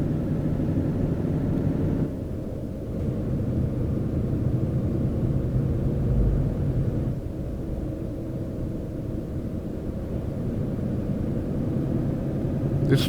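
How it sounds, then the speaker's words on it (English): A truck engine in Euro Truck Simulator 2, on a long drive toward Bergen, Norway, holds a steady, loud low drone with constant road rumble and no pauses or voices. "Hopefully the engine sounds are not too loud."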